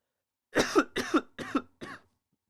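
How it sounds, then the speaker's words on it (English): Four sharp coughs in quick succession, close and fairly loud, with brief pauses between them and silence around. "I coughed."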